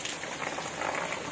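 Rain falls steadily on a rooftop during a heavy downpour, an even, dense hiss of droplets pattering close by without any talking.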